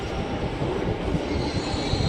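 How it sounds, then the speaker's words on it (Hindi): A Delhi Metro train bound for Dwarka pulls into the station, a steady loud rumble of wheels and carriages with a faint high squeal running through, no voices over it. "मेट्रो आने वाली है द्वारका की तरफ जाने वाली"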